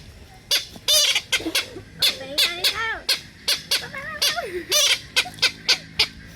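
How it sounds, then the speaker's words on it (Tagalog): A chicken clucks and squawks repeatedly in short, rising bursts, close and fairly loud, with sharp calls scattered through the stretch. "Manok yan, manok."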